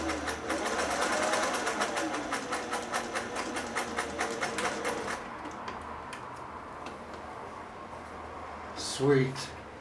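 A Singer 401A sewing machine runs with a rapid, even mechanical ticking of the needle, loud at first then softer as it slows, followed by a brief voice near the end.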